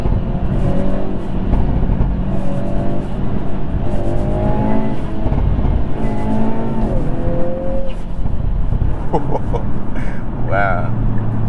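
Hyundai Veloster N with dual-clutch transmission accelerating hard, rising engine tones climbing in steps through gear changes, with turbo whoosh and chatter up close; a voice speaks briefly over the engine.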